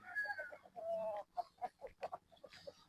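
Possum Gilmore gamefowl bull stags at a game farm clucking in a rapid, uneven series of short calls, close and fairly quiet, with a few longer calls at the start and no talking.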